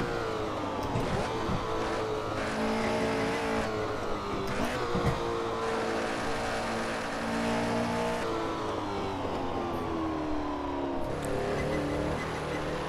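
A 1968 Porsche 908 LH race car at the Nürburgring roars under hard acceleration, its engine note loud and sustained with pitch rising through gear changes across the whole stretch, close and steady.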